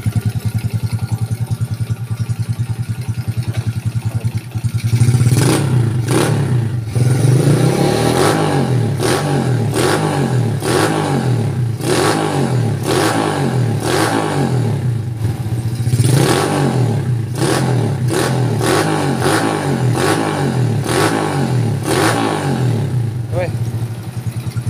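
A motorcycle engine revs hard over and over, rising and falling in loud, repeated bursts over a rough idle.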